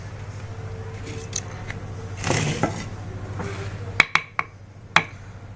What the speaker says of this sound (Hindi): अब हम हरी मिर्च काट लेंगे।